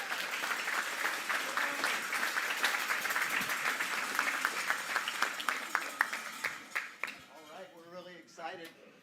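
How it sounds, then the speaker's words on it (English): A crowd at a corporate vision-day event applauds as an investment funds team walks on stage, dense sustained clapping that thins into scattered claps near the end while a voice begins talking. "So let's welcome up and give them a round of applause, Nick, Larry, and Rich."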